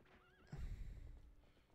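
A horse whinnies with a wavering neigh, then its hooves thud heavily as it jumps a gate in Zelda: Twilight Princess, one loud landing thump followed by trailing hoof noise, with no talking.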